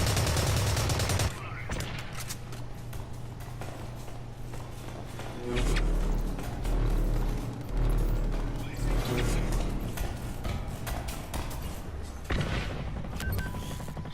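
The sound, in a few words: AK assault rifle gunfire in Blacklight Retribution video game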